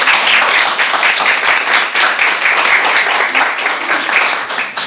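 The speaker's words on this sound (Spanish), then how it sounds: "Un aplauso para ustedes." An audience applauds at a Teletón charity campaign launch in Valparaíso, steady dense clapping from many hands that continues for several seconds.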